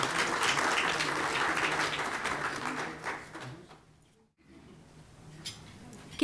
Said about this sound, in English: So let's give her a round of applause as she comes.